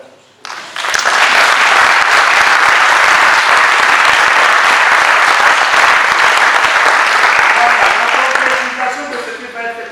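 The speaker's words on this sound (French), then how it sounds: "je vous invite, mesdames et messieurs, à applaudir la société." Sustained, loud applause from the guests at a civil wedding ceremony in a town hall. It starts abruptly, holds dense and steady for about eight seconds, then fades out as talk resumes.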